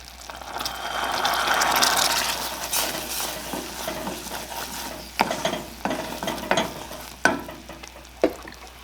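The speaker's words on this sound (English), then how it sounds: "You get a little bit of bubbling going on there." Honey bourbon glaze bubbling and sizzling in a pan on a Pit Boss pellet grill setup, a steady frothy crackle that swells early then settles into softer fizzing with a few sharp clinks of a spoon or utensil.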